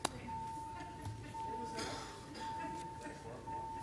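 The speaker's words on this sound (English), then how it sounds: "Can you ring the bells?" Quorum call bells sound in a city council chamber as a steady, faint electric tone that rings continuously under the quiet room ambience and occasional noise.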